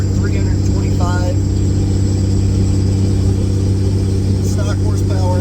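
Inside the cab of a 2004 Cummins 5.9 diesel truck while towing, a continuous deep engine drone hums loud and unchanging, with someone speaking briefly over the steady rumble.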